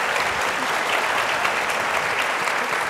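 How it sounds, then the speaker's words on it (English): An audience at a tech panel discussion claps steadily and loudly throughout, a dense, even wash of applause for the panelists. "Please give them a round of applause."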